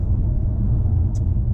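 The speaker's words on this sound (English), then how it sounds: "There's a bit of road noise coming into the cabin, but not a huge amount." Low, steady road rumble inside the cabin of a 2020 Nissan Juke on an A road, a constant muffled drone heard alone, with one faint brief tick.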